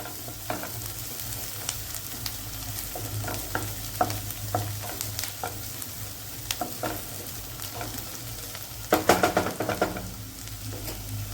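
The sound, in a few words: onions frying in a pan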